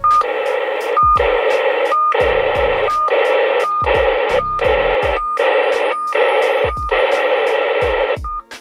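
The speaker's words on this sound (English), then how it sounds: "Just gonna be getting static right now. So that is on volume 1, volume off, and as you can tell, it gets pretty loud." Loud static bursts from a Midland MXT275 vehicle GMRS radio, coming in repeated chopped blocks of roughly half a second separated by short gaps, each opening with a brief tone, steady and harsh throughout.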